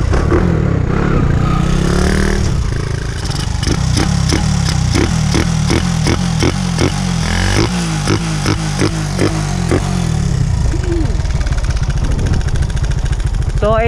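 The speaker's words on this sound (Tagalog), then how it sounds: "Medyo malakas yung motor mga boss." A Honda XRM 125 dual sport motorcycle with a 57mm setup runs loudly up close, its engine rumbling in a rough, continuous roar with rapid rhythmic pulsing and clattering bursts as it revs.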